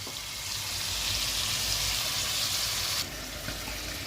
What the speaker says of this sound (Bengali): যতক্ষণ না চিকেনের কালারটা একটু চেঞ্জ হয়ে যাচ্ছে, ততক্ষণ পর্যন্ত আমি এটা একটুখানি নাড়বো।